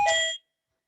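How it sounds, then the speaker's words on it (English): A notification bell dings once during an online talk on food and health, a bright chime that rings out and fades quickly, alone with no voices. "I'm just going to undo my bell in case this keeps going on and on forever"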